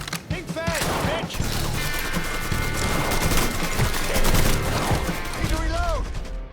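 Rapid bursts of gunfire in the Mafia III video game, loud and close, rattling in quick clustered volleys with voices shouting over the shooting.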